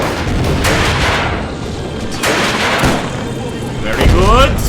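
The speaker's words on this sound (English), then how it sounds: "Those are instant explosion grenades." Instant-explosion grenades go off in an Interwar-mod video game, a few heavy booming blasts rolling out over a continuous gunfire-like din, with a voice briefly present.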